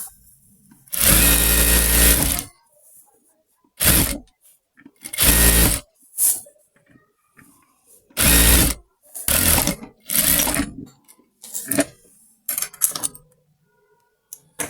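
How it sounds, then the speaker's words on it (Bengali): An electric sewing machine stitches a seam on a salwar in several loud bursts of rapid stitching, each a second or two long, separated by pauses with faint handling noises and no talk. "এভাবে আমরা চাপ সেলাই দিয়ে দিব দুইটা"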